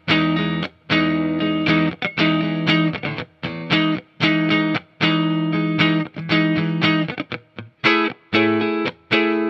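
A chrome 2020 Fender H.E.R. Stratocaster electric guitar plays loud, distorted chords through effects, strummed in choppy rhythmic bursts with short gaps, steady and close throughout with no voices.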